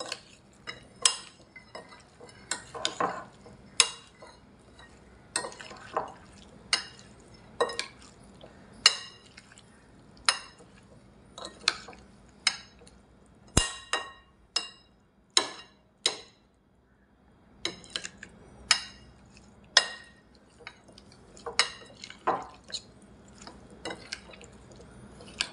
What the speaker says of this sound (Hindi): और हम सारों को करेंगे मिक्स।